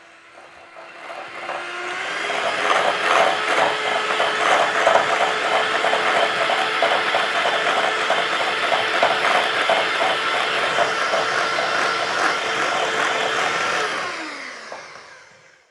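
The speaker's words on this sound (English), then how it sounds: "In a mixing bowl, add butter and beat with a hand mixer." A hand mixer beating butter in a mixing bowl whirs up to a loud, steady motor drone that holds for over ten seconds, then winds down at the end.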